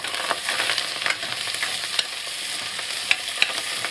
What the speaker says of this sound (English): The mushrooms, the onions, the garlic, everything in there.